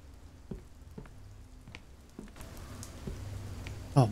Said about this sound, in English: Oh man, freaking raining out here.